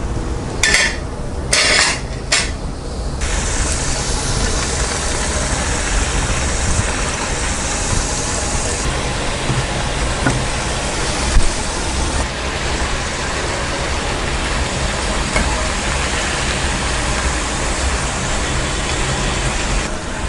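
Maida thattai frying in hot oil: a steady, dense sizzling hiss continues for the whole stretch, with a few sharp crackles near the start and no pause.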